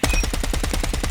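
A GKS assault rifle firing in Call of Duty, a rapid, even burst of about a dozen loud close shots in quick rhythm.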